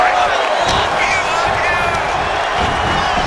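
Loud, steady crowd roar and cheering from a WWE 2K25 wrestling match fills the whole stretch, with a few sharp peaks of excitement rising out of the dense arena noise.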